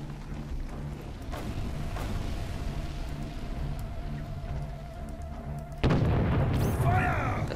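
Cannon fire in the Der Schatzplanet video game, heavy booms sounding against a rumbling background, with a louder burst near the end followed by rising electronic tones.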